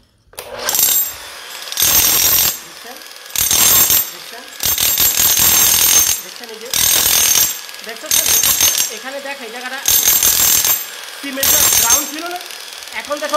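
A machine breaking floor tiles runs in repeated bursts of about a second each, harsh rattling hammering separated by short pauses, loud and close, with a voice between bursts.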